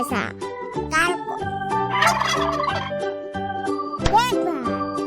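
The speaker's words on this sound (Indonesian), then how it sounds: "luar biasa, kalkun" Turkey gobbles repeatedly in a children's animation about learning animals, the bursts loud and close, with bright chiming tones and music around them.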